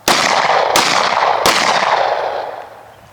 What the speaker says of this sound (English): Slow press of that trigger, slow press, one shot.